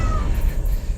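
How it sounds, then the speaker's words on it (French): A cat meows once, close and loud, in a horror film scene, the call rising over a dense low rumble that fills the whole second. "C'est rien, c'était un chat."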